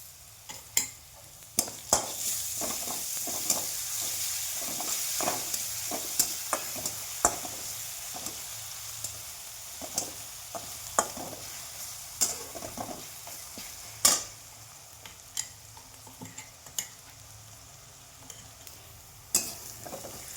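Onion and ginger-garlic paste fry in a pan with a faint continuous sizzle, punctuated by scattered sharp taps and scrapes of a stirring utensil against the metal, quiet and close without speech.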